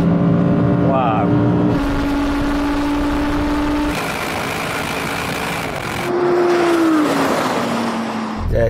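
An Audi R8 GT or RS6 GT pulls hard on a track, the engine note climbing through gears with sharp shifts and renewed surges, loud and close.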